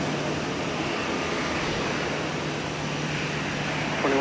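A fixed-wing airliner rolls for takeoff on runway 12 left at Minneapolis–St. Paul Airport, its engines a steady, broad roar that holds even throughout.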